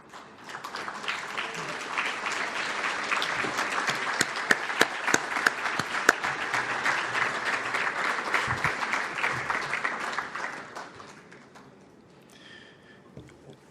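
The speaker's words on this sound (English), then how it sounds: "Can you all please just take a stand so we can give you a round of applause?" Applause from a banquet audience at a Labour Day event, steady and full for about ten seconds with sharp individual claps standing out, then fading to quiet room murmur.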